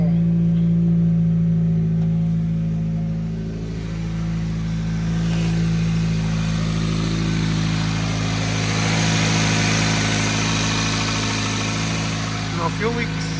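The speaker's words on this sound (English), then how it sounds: "idling fine for a cold start" Supercharged 1ZZ Toyota Matrix engine idling after a cold start with the muffler removed, a loud, close, steady low rumble with a constant hum that swells slightly partway through.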